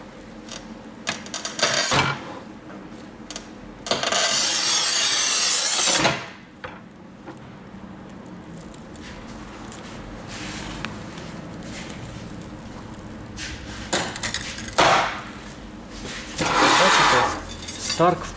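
A manual Rubi FAST 85 or Stark MTC 1000 tile cutter scoring and snapping a thin strip of porcelain tile, with two or three loud rasping bursts of a few seconds each separated by quieter stretches of handling.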